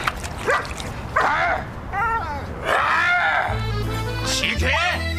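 A dog yips, barks and whimpers in high, pitch-bending cries, close by, with people talking over and around it.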